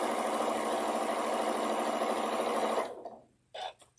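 A Juki 2010 sewing machine runs steadily at close range with a dense, continuous whir, then stops abruptly and trails off, followed by a brief short burst of stitching.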